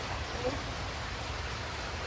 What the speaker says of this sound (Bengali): বাইরে এখনো বৃষ্টি হইতেছে বৃষ্টি থামে নাই